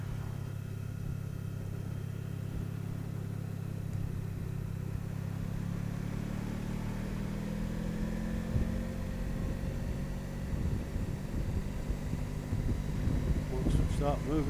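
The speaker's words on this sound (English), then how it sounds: "you can't hear me for the wind, can you?" Steady, loud wind roar buffets a rider on a Honda ST1100 motorcycle, low rumbling rush mixed with engine drone that swells as the bike picks up speed, continuous across the whole stretch.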